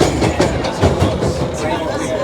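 A heritage London Underground 1938 stock train passing through Boston Manor station, a loud rumbling run with rhythmic clattering over rail joints, heard from on board.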